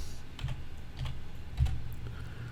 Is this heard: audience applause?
no